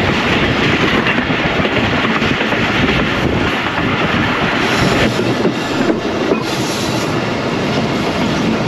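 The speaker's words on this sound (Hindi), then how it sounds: "लेफ्ट साइड पे तकरीबन 90 डिग्री के करीब ट्रेन घूमती है।" A train rounds the sharp, nearly 90-degree curve at Kaluwal railway station on the single-line Lahore–Rawalpindi route, a loud, steady rumble with wheel clatter and faint squeal running throughout.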